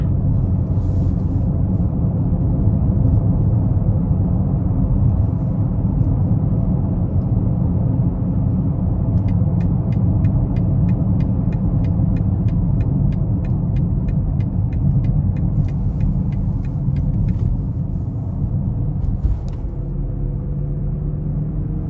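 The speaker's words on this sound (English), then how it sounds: "I just love how these 3-liter turbocharged inline sixes accelerate from BMW" A 2021 BMW X5 xDrive40i with a 3-liter turbocharged inline-six pulls hard in sport mode, making a steady loud engine drone mixed with road and wind rumble from inside the cabin. A faint ticking runs through the middle stretch.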